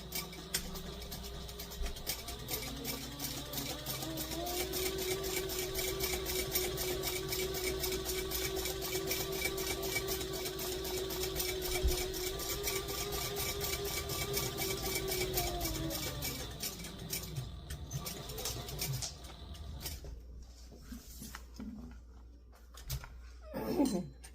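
A sewing machine runs a long continuous seam on a clear vinyl clutch, its steady mechanical whir holding for around fifteen seconds before winding down into quieter handling noise.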